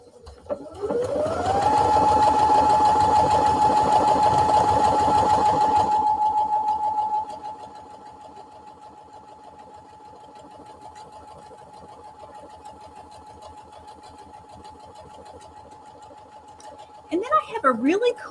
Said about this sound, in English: I'm going to lower my presser foot and I'm going to press my start button